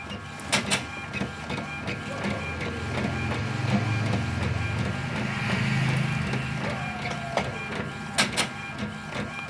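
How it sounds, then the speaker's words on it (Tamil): An Epson L15150 inkjet printer prints a passport-size photo, its steady mechanical whir and rhythmic carriage shuttling broken by a few sharp clacks of the paper feed, close and clear. "பிரிண்ட் ஆகிட்டு இருக்குது ஃபோட்டோ காப்பி பிரிண்ட் ஆகி வர்றதுக்கு கொஞ்சம் டைம் எடுக்கும்"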